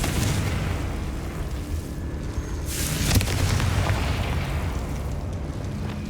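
Explosive blast of the Confringo fire spell in the video game Hogwarts Legacy, a loud, sustained booming roar over about six seconds with a sharper burst midway, no voices.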